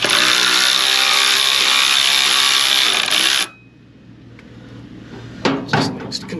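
A 13 mm socket ratchet works on a stock exhaust clamp of a VW Alltrack. Dense, continuous mechanical clatter and clicking stop abruptly, followed by near-quiet and then a few sharp metallic knocks.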